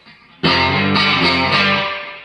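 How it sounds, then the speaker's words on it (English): A bright, thin electric guitar chord on the bridge pickup rings out sharply, restruck twice more, then lets the sustained notes fade slowly. "It's a sharper, brighter sounding guitar."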